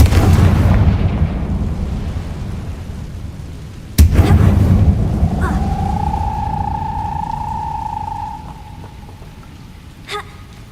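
In the Hogwarts Legacy video game, the Confringo explosive spell sets off a heavy booming blast, followed a few seconds later by a second deep impact. A rumbling tail trails off into a faint sustained tone and a small crackle.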